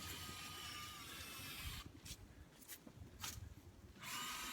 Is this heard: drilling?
yes